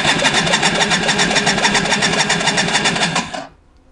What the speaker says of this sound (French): quand on met le plus, bah forcément le démarreur tourne et ça fait tourner le moteur